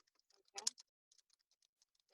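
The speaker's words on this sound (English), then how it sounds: "I'm typing the responses as you're saying it" Someone types on a computer keyboard, with soft, quiet scattered key clicks and a brief flurry of louder taps near the start.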